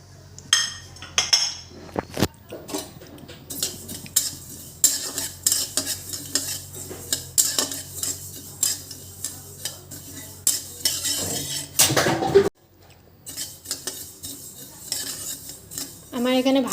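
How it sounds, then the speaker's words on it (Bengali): Black cumin seeds are dry-fried in a pan for a bhorta, with repeated spatula scrapes and metallic clinks against the pan over a faint background sizzle. "এখন আমি কালো জিরাটা ভাজা করে নেব।"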